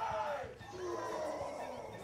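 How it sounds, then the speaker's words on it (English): A crowd at a Super Smash Bros. Ultimate tournament in a hotel screams and cheers, a sustained rowdy roar with voices mixed in, fairly distant and moderately quiet. "They are still just screaming."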